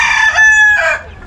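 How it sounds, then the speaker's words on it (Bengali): A rooster in a small rooftop chicken cage crows once, close and loud, a long strained call that falls away at the end. "এই যে মোরগটা ডাকতেছে"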